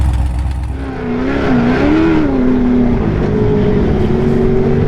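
A Corvette-engined sandrail drives over the sand dunes at Glamis, its engine droning loud and steady with a rising and falling pitch as it revs, close and continuous throughout with no talking.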